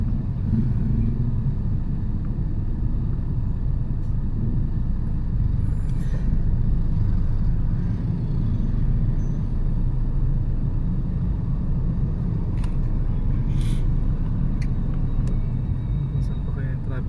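City road traffic with cars and buses at a crossing near a mall, a dense continuous low rumble of engines with occasional brief higher hisses, while people talk over it.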